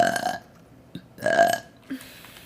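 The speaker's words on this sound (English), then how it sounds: "if you can manage to burp 10 times in a row" A woman lets out two loud, close, drawn-out burps about a second apart, with short faint throat noises around them.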